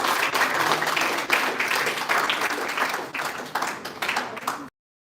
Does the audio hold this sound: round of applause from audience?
yes